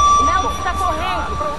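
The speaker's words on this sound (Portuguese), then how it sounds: "Ah, tocaram o alarme?" A steady electronic alarm tone rings throughout in the video game Battlefield Hardline, holding a constant pitch under game noise and a talking voice.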